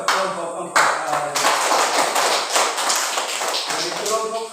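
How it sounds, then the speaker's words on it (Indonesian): A classroom applauds a student group, a burst of dense clapping that swells, holds and tapers off, with voices mixed in. "Tepuk tangan buat kelompok 4."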